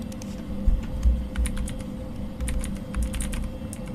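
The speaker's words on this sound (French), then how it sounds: "j'appuie n'importe comment sur mon clavier, ça écrit la même chose." Rapid, uneven clatter of keys on a computer keyboard while the horror game Fears to Fathom: Woodbury is played, with close, steady typing over a low background hum and no talking.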